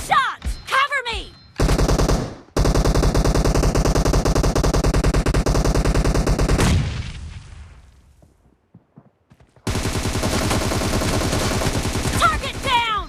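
Rapid automatic assault rifle fire from a team-based video game, loud sustained bursts with clipped starts and stops, a pause of near silence midway, then another long burst; brief game voice callouts at the edges.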